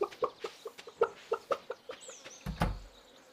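Chickens cluck in a short run of rhythmic game-style bursts inside Stardew Valley, about a dozen evenly spaced clucks followed by a louder, lower thump near the end.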